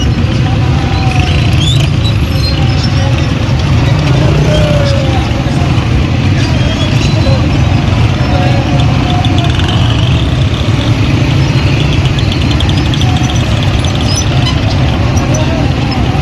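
Motorcycles and other vehicles arrive at a Dadyal celebration in Kashmir, a steady loud wash of engine rumble and crowd noise that never lets up, with voices mixed into the din throughout.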